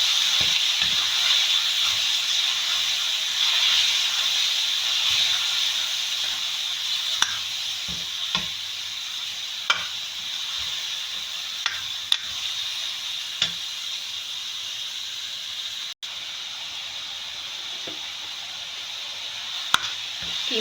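Minced meat keema frying in a pan, a steady hissing sizzle that runs throughout, broken by occasional soft clicks and scrapes of stirring.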